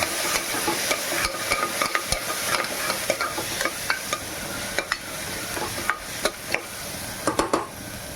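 Ginger garlic paste sizzles steadily in a hot pan while being stir-fried for a festive Maharashtrian recipe, with a constant bright frying hiss broken by repeated sharp scraping and stirring clicks, close and alone.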